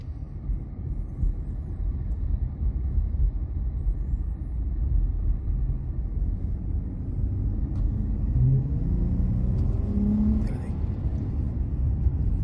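Dodge Challenger SXT V6 rumbling steadily from inside the cabin, with a light throttle blip bringing a brief rise in engine note near the end, loud and continuous.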